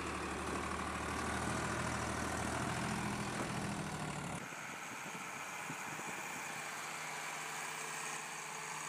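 An old tractor engine idles with a steady low rumble, then the tone drops abruptly about halfway through and a quieter, rougher idle continues to the end.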